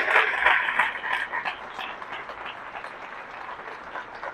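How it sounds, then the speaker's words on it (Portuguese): A church congregation at a women's conference breaks into applause, a dense wash of clapping that starts strong and gradually thins and fades over a few seconds. "pode aplaudir ao Senhor"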